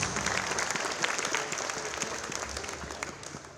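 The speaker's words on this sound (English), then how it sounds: "Let's give a big round of applause." Crowd applause in a high school girls volleyball gym during pregame introductions, a fairly soft, steady patter of many hands clapping with a few sharper claps standing out, no voices over it.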